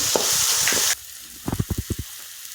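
Brinjal and spices frying in hot oil for an Assamese yogurt brinjal dish: a loud, steady sizzle fills the first second, then drops away to a run of sharp stirring and scraping knocks against the pan.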